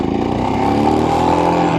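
A Royal Enfield Himalayan motorcycle on a cold January ride in Iowa, its engine running loud and close with a steady rumbling drone and a slight rise in pitch as it turns on sand and gravel.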